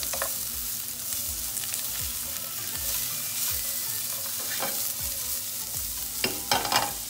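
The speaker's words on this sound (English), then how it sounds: "We're gonna add our veggies here and toss those up with the bacon. Get this nice and sauteed up." Vegetables tossed into a pan with bacon for a hash sizzle steadily throughout, with scraping stir strokes and a few louder clatters near the end.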